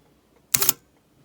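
A camera shutter fires once at a one-second exposure, a single sharp mechanical click-and-release burst close to the microphone, standing alone against near silence.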